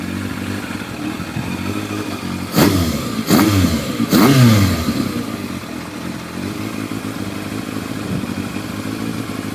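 A motorcycle engine idles steadily at close range while its throttle is adjusted, with three quick blips rising and falling in pitch before settling back to an even idle.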